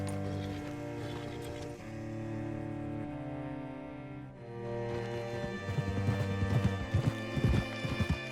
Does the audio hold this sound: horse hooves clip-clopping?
yes